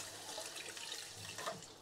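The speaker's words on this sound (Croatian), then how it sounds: "Malo ćemo još vode samo naliti." Water pours steadily into a stewing pot of Székely goulash, a continuous broadband splash running the whole time at moderate, close-up level with no voices.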